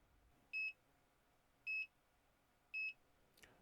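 A digital thermometer's timer sounds three short, evenly spaced high beeps, each about a quarter second long, in a quiet room with no talking.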